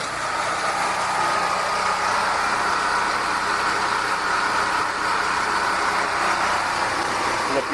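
A warm Duromax XP4400E portable generator engine runs at a steady, constant drone after a key start, close and unbroken throughout.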